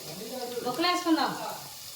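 Raw banana pieces hit hot oil in a frying pan with onions, curry leaves and green chillies, giving a steady sizzle that swells briefly, with a voice speaking over it.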